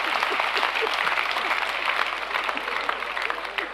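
Audience applause at an anniversary celebration at the Bomas of Kenya, dense steady clapping from a large crowd filling the whole stretch, close and loud.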